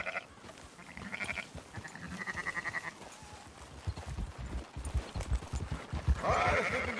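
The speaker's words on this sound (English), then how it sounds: "Marston, why don't you leave the sheep to me?" Sheep bleat several times amid a soft, irregular patter of hooves in the video game Red Dead Redemption 2, the animals close and moderately loud, with a louder bleat near the end.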